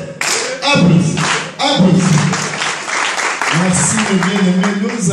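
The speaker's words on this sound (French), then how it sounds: "Applaudissez." A congregation claps together at an open-air Easter ceremony on Mont Mangadzi in Dolisie, with close, loud hand claps and voices mixed in throughout.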